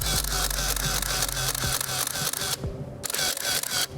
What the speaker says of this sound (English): original Nikon Fs, MD1 motor drive.